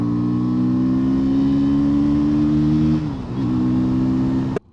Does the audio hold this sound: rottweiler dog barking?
no